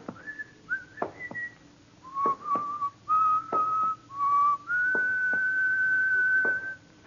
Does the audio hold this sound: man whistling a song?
yes